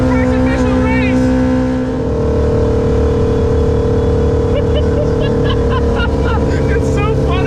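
Small car fitted with a swapped motorcycle (crotch rocket) engine, racing: a loud, steady engine drone with rising harmonic whines as it revs, continuous and close throughout.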